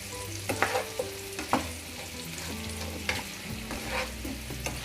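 Onions being stirred and fried together with potatoes and spices in a pan for a dry aloo pyaaz sabzi, steady close sizzle broken by repeated scraping stir strokes, no voices.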